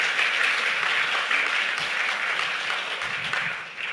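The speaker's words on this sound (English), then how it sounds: "you truly deserve our collective applause" An audience at a commissioning ceremony for an operational control centre breaks into broad, even applause, many hands clapping steadily before slowly tapering off.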